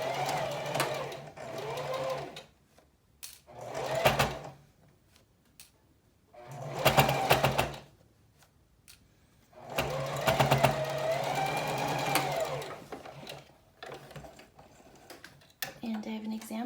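Sewing machine chain-stitching fabric masks, with back tacks at the start and end of each, in several separate bursts of rapid close stitching, pausing between runs, while a voice talks in the gaps.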